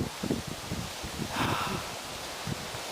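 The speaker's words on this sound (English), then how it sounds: "It's a little breezy, but it's also a little beautiful." Breezy wind on a hiking trail, a soft steady outdoor rush with gentle rustling, fairly faint and continuous with a slight swell midway.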